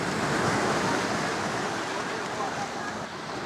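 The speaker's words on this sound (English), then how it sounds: "the waves are quite high" High ocean waves break and wash onto a beach in Barbados, a steady, loud roar of surf with wind noise that holds throughout, easing slightly near the end.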